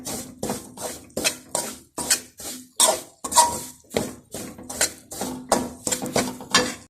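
Semolina being roasted for suji halwa in a pan, a metal spoon scraping and tapping the pan in a steady rhythm of about a dozen short strokes, close and clear.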